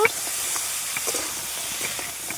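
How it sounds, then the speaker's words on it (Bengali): Chunks of young jackfruit and potato fry in a pan over low heat while being stirred. A steady, close, bright sizzling hiss runs throughout, with faint stirring ticks, as a person speaks. "হালকা হালকা আঁচে ভাজতে হবে ভালোভাবে নাড়িয়ে নেবো"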